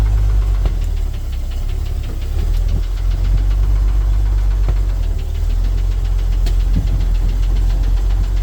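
An old truck engine running while driving, a loud, close, continuous low throbbing rumble with a knocking pulse and constant vibration, no talk.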